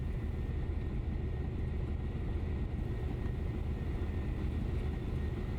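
A Cessna 152 piston engine idling at low power while taxiing in Microsoft Flight Simulator 2020, a steady, loud droning rumble with no break and no talking.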